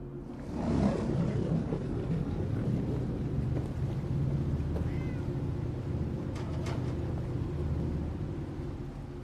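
Cats meowing in the game Fallout 4: Far Harbor, a few faint mewing calls rising over a steady low rumble of wind and water with a boat engine drone throughout.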